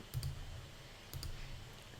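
Computer keyboard keys pressed for a shortcut, two quick pairs of close, faint clicks against a quiet room.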